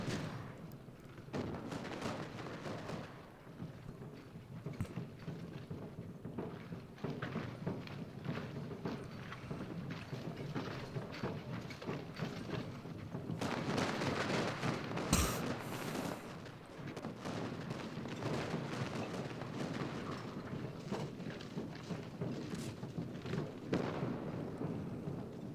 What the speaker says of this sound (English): see, I've got cannons shooting here.